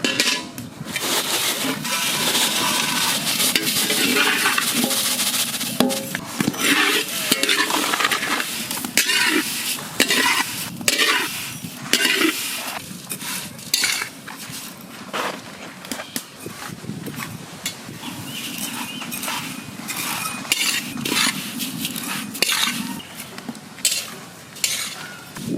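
Vermicelli (semui) is fried and stirred in a pan, with repeated scraping and clattering strokes of a utensil against the metal over a steady sizzle, close and busy, with no talk.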